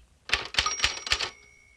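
A burst of typewriter keys struck at a steady beat, four crisp mechanical clacks close and alone, as in a 1960 touch-typing drill recording.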